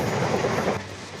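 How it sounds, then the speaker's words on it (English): A train rolls past on a railway line behind a house's back garden, a broad steady rumble with a faint rhythmic clatter that eases off slightly toward the end, with no voices. "There's the train."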